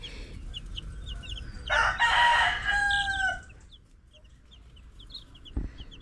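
Ulikbang chickens on a backyard farm cluck in the background while a rooster lets out one loud, close crow in the middle, followed by quieter clucking and a brief knock near the end.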